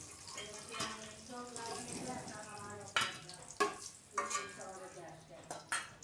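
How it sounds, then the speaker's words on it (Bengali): Eggs fry in oil with turmeric and salt in a home kitchen, making a faint sizzle with intermittent stirring clatter and utensil knocks, while a voice speaks quietly throughout. "হলুদ আর লবণ দিয়ে ডিমগুলোকে ভালো করে ভেজে নিতে হবে।"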